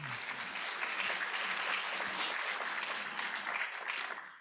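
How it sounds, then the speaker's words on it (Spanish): Applause from the audience at a university lecture hall conference, a soft, steady wash of many hands clapping heard from a distance, fairly faint and continuous throughout. "Un fuerte aplauso."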